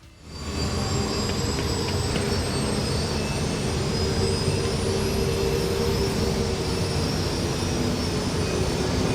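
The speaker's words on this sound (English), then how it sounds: "The X-Wing sounds more like a jet than the pod racer does." Sustained, steady roar of a jet-like starfighter engine from Star Wars, with a high whining tone that slowly rises in pitch, loud and continuous throughout without any talk.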